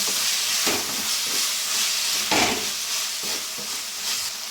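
Tomatoes softening in a pan over a medium flame for an aloo mushroom gravy, with a steady close sizzle and hiss punctuated by a few soft stirring scrapes.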